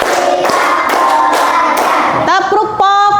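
Groups of hand claps come in counted, rhythmic sets in a classroom, sharp and close with a voice calling between bursts and ringing tones near the end.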